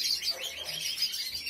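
A small caged bird chirps in quick, high, thin bursts, close and fairly clear, repeating several times over a faint background.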